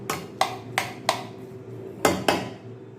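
A ladle strikes and scrapes a metal pot while pepper thokku premix is stirred, six sharp clanks spaced irregularly, close and distinct above a low background hum, with no talking.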